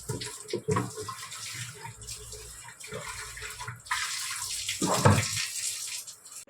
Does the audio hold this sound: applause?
no